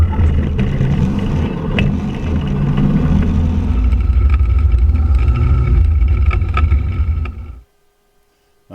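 The engine of a BushCat light aircraft on a farm drones loudly and steadily close by for several seconds, then cuts off abruptly into near silence.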